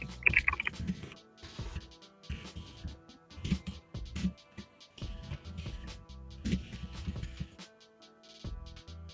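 Keys clatter in bursts on a computer keyboard while a custom contact form is built, the typing soft and close with short pauses between runs of keystrokes.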